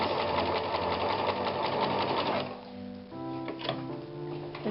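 Sewing machine with a walking foot quilting through fabric patches, a steady dense mechanical whir that runs continuously, then slows and stops, followed by a few softer clunks and hums as it settles.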